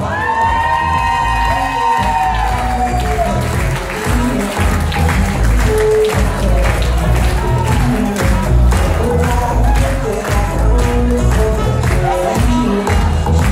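An audience at a reception bursts into loud, sustained applause with cheers and whoops throughout.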